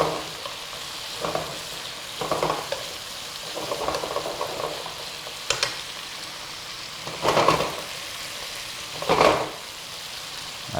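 Korean spicy pork sizzles steadily in a hot pan, a soft continuous frying hiss broken by several louder scraping stirs at irregular intervals, close by with no talking.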